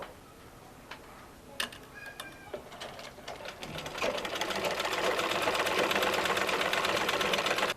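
Sewing machine stitching a long sleeve, starting with a few clicks and handling noises, then building into a steady, loud, rapid run of needle strokes.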